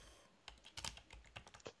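Rapid keystrokes on a computer keyboard, typed into a command-line terminal, come as close, irregular bursts of clicks with short pauses and no voices.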